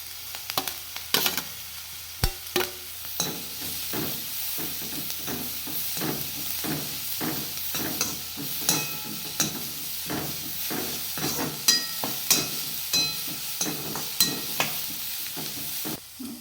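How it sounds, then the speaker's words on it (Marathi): Cabbage and other vegetables stir-fry over a high flame with a constant sizzle, punctuated by regular clanks and scrapes of a spatula tossing them in the pan. "भाज्या आपल्याला क्रंची होईपर्यंत हाय फ्लेमवरती होऊ द्यायच्या आहे"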